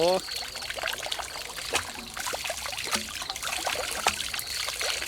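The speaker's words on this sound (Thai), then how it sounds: "น้ำไหลเนี่ย" Water flows and trickles steadily outdoors, a continuous splashing stream with scattered clicks and knocks over it, close and fairly loud throughout.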